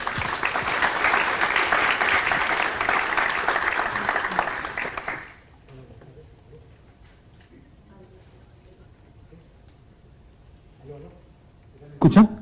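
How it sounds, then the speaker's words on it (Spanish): An audience at an education law symposium gives a warm round of applause to welcome a speaker: dense, loud clapping for about five seconds that stops abruptly into a quiet room, with a faint knock near the end. "Lo recibimos con un caluroso aplauso"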